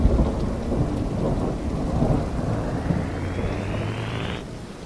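Steady, loud rain and rumbling thunder from a stormy outdoor scene in the horror game Horror Tales: The Beggar, a dense continuous downpour with a faint rising whine near the end.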